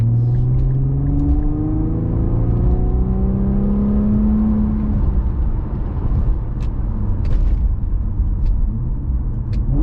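Infiniti fitted with a Helmholtz sport exhaust passes at speed, a rising engine whir and rumble that sweeps past and fades into a steady roar with light background clicks.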